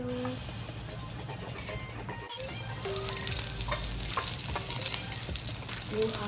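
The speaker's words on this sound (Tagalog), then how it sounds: "Start na natin igisa ang ating mga sangkap." Garlic sizzles in hot olive oil for a stir-fry, a steady crackling frying hiss that swells louder after a brief pause, with occasional stirring scrapes close by.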